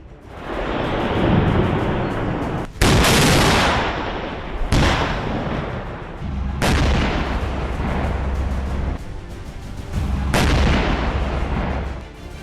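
North Korean artillery cannons fire several loud, booming shots a couple of seconds apart, each blast rolling into a long rumbling echo over a continuous roar of war-zone noise.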